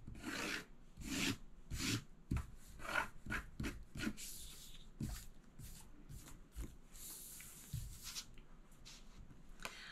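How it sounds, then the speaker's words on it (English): Repeated close scratchy rubbing strokes as a finger works excess adhesive off a handmade paper craft border, rhythmic rasping passes of varying length, quiet and with no voice. "I'm gonna go ahead and rub out any of my extra adhesive"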